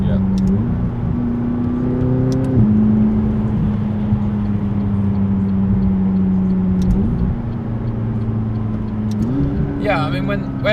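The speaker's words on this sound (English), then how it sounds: "McLaren have made this sound amazing" A 2017 McLaren 570S engine drones steadily from inside the car while driving, a loud low hum that steps up in pitch with each gear change, and a voice talks faintly underneath.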